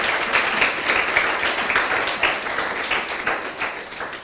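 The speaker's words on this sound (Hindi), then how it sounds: "आइए इस प्रतिज्ञा के लिए ताली बजाएंगे हम।" A church congregation clapping hands together, a dense, steady round of applause with a loosely shared rhythm, moderately loud and continuing without a break.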